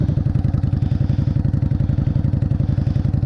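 A motorcycle pulls away under decent throttle during riding-test practice, its engine giving a close, steady rapid pulsing thrum with no talk.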